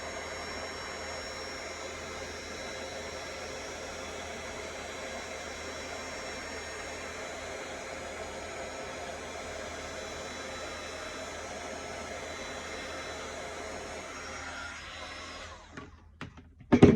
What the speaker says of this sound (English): Now, we take the embossing tool up.